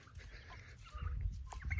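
Faint, distant turkey calls, a few short gobbling clucks rising over a low outdoor rumble.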